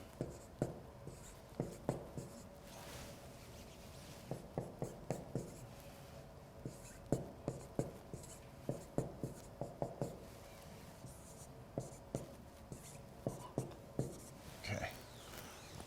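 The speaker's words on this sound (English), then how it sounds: "I'll just write these down over here." Marker or pen scratches out math for a triple integral in spherical coordinates, in quick clustered strokes and taps repeating steadily throughout, close and fairly quiet over a low room hum.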